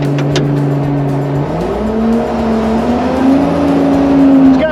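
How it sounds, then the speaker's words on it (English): A 12-valve Cummins diesel engine running on a crab-steering machine, a loud steady rumbling drone that shifts pitch and swells slightly as it revs, close and continuous. "These are great, great machines. 12 valve Cummins, hard to beat."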